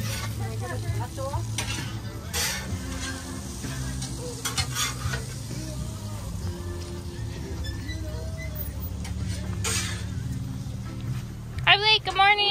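Eggs frying over easy on a griddle, with a continuous sizzle, occasional spatula scrapes and clinks, as several people talk nearby and a voice rises near the end.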